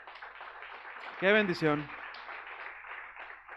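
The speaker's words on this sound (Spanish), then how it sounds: "Le damos un aplauso a Dios por sus vidas." Church congregation clapping during a worship service, a steady crowd wash of applause throughout, briefly overlapped by a voice speaking.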